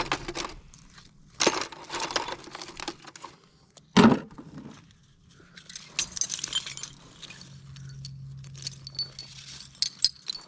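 Big metal nuts and bolts, some stainless, clinking and jangling as they are sorted through flood debris during cleanup, with sharp close metallic clanks at intervals between quieter rattling and shuffling.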